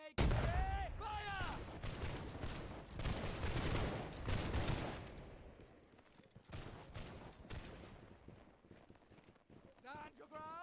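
Musket volley fire in the Holdfast battle game, several loud cracking bursts in the first half, mixed with horse hooves and shouted commands, fading to scattered shots later.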